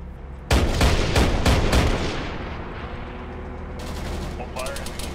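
Gunfire in the ARMA 3 combat game during a co-op mission: a loud, close volley of rapid shots for about a second and a half, then a fading rumble and a few fainter shots later.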